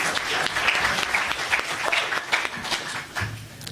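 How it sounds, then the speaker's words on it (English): A round of applause from a live audience, steady, dense clapping that holds for several seconds and tapers slightly at the end, fairly close and loud. "So I want to give a round of applause for that."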